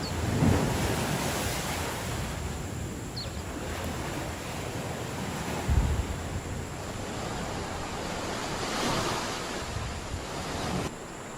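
Ocean waves surge steadily into a flooded sea cave, wind buffeting the microphone in a constant roar with a few louder swells breaking through.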